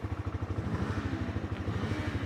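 A Bajaj Freedom 125 CNG motorcycle engine idles just after starting, a low, even, rapid thumping pulse close by and fairly quiet, with no talking over it.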